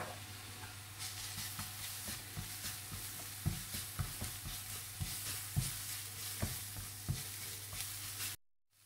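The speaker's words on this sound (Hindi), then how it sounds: "प्याज हल्की सी ब्राउन होने लगे तो आप इसमें पिसा हुआ लहसुन, काली मिर्च, नमक और कुटी हुई लाल मिर्च डाल दें और अच्छी तरह से भून लें" Onions frying in a pan with ground garlic, black pepper, salt and crushed red chili, giving a steady close sizzle with repeated stirring scrapes, alone with no talk and a steady low hum underneath.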